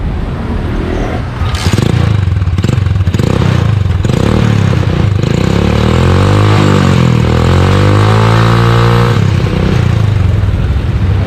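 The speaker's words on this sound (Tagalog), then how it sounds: "paandarin mo yung makina ilagay mo hanggang 4th gear" A motorcycle engine runs steadily and loudly up close, its pitch climbing and falling as it revs up to fourth gear on its center stand, with some mechanical clatter.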